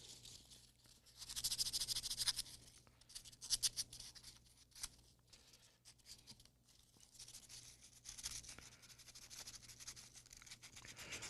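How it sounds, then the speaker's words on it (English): Sandpaper rubs a rough part of a 1978 Simon electronic game in short, faint scratchy strokes, quiet and close with uneven bursts of scraping. "let's just sand it."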